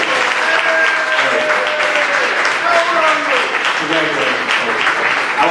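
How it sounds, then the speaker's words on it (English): An audience at a football lunch-hour gathering applauds for a coach's birthday, a sustained round of close clapping mixed with cheering voices and people talking. "Everybody clap for Coach Smith."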